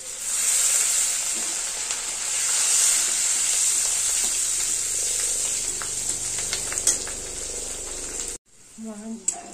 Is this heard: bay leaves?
yes